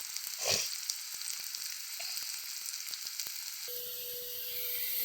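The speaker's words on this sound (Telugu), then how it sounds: "ఆయిల్ ఉడుకుతుంది కదా ఉల్లిపాయలు ఇప్పుడు అవి లైట్ బ్రౌన్ కలర్ రావాలి" Onions frying in hot oil in a pan while salt fish is cooked, a steady sizzle with sharp crackles and pops, a brief louder burst near the start, and a tonal hum joining in for the last second or so.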